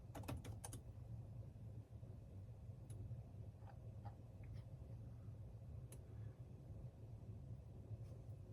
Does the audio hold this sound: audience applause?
no